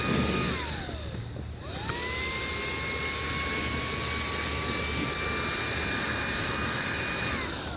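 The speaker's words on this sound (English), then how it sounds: "So I'm gonna go ahead and blow the ground and just see, this is pretty dense sawdust" Blower with a tight nozzle blasting dense composite sawdust off the ground, a loud continuous high whine that dips briefly then spins back up and holds steady, with no voices.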